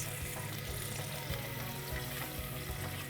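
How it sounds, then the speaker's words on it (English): Onions sautéing in hot oil in a pan, a steady dense sizzle and crackle holding at an even level throughout, with no voices. "I'm going to add the onion to the oil in the pan. And we're just going to saute these onions a little bit"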